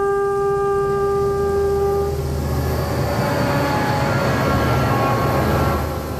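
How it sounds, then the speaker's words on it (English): A Queensland train rolling along its line, opening with a sustained horn blast over the low rumble of the railcars, then a steady, loud clatter and roar of the train running past up close. "The train keeps running"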